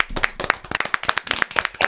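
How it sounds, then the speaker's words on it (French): Fairly close, irregular hand clapping from a small audience at a wellness talk, individual claps distinct and uneven rather than a dense wash. "Ok, mon cher Vincent, on vous applaudit"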